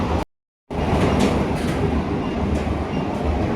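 An air-conditioned Sealdah–Kalyani local train runs steadily with a loud, continuous rumble and rail noise, cut by a brief silent gap near the start.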